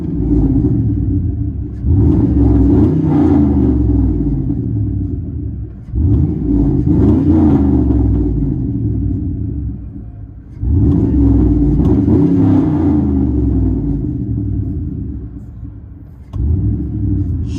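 Deep, loud exhaust rumble of a straight-piped 5.3-liter Chevy Silverado V8 with true duals, heard from inside the cab, with three long rev surges that climb and fall back, plus a short final blip.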